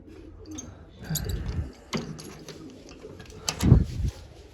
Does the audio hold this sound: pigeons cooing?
yes